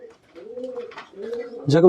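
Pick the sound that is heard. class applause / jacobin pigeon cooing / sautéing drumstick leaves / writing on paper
jacobin pigeon cooing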